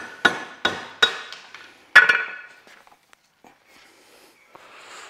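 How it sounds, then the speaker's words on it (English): A nylon hammer knocks sharply several times in quick succession, driving an old seal out of a Land Cruiser 60 Series transfer case; strikes close and loud, followed by lighter taps and quiet rustling. "So you just knock that old seal out"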